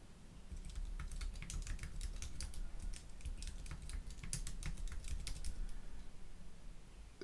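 Keys clatter steadily as a password is typed on a computer keyboard, a close run of quick, uneven clicks lasting several seconds with no talking.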